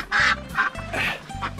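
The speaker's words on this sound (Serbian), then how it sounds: "Evo ih, patkice, plaše se." Ducks quacking in a farmyard pen, a series of loud nasal quacks in quick bursts close to the listener, with no talk over them.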